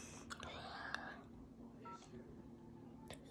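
Keypad tones beep one at a time as a number is dialed on a telephone, quiet and close, with faint whispering in the background.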